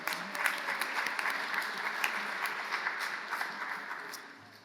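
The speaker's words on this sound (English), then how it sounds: "All right, give yourself a round of applause." A Unitarian Universalist congregation claps together in steady, dense applause that holds evenly for several seconds, then tapers off slightly at the end, with no voices over it.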